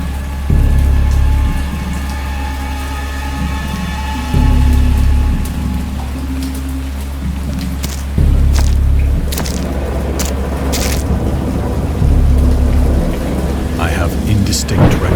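A heavy rainstorm with rolling thunder in the horror game Dagon: steady loud rain hiss under repeated deep thunder rumbles recurring every few seconds, with a voice speaking over it.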